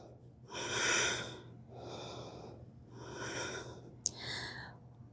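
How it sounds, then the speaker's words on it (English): Slow, deliberate breaths in and out during an exercise class, four long airy breaths in a steady rhythm, close and audible, with a brief click near the end. "Breathe in and out."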